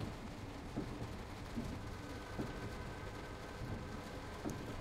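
Heavy rain pours in the Train Sim World 2 railway game on the S-Bahn Dresden line, a dense, steady hiss with a few faint low rumbles underneath.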